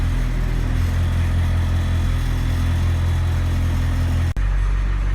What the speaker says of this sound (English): I'm going to leave the engine run for a little bit